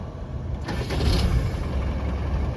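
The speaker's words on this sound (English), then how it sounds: "let's start it up and I'll show you the engine" The 200Tdi diesel engine of a 1993 Land Rover Defender 110 cranks briefly, catches, and settles into a steady low rumbling idle nearby.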